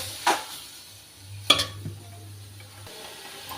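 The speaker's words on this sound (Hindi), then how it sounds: "और इस जख्या पे मतलब आवाज़ आने बैठ गई है" Jakhya seeds in a pan with no oil, for a Pahadi pumpkin dish, give a faint, soft sizzle, broken by a couple of sharp utensil clinks against the pan and a low background hum.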